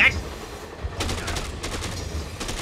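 Assault rifle gunfire in the video game Dead Rising comes as short bursts of rapid shots, some muffled and some sharper, in a busy game mix with a voice faintly present.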